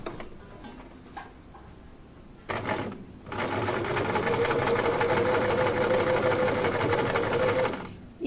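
After a quieter start with a few knocks, a sewing machine starts up and runs in a long steady whir, stitching standard seams on both sides, then stops.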